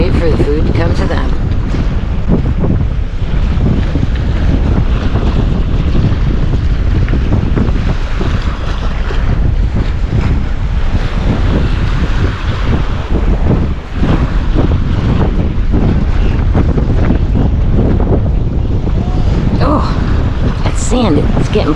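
Strong wind buffets the microphone on a Gulf beach at Lido Key, blowing sand in a loud, continuous roar with surf-like rushing underneath and no letup.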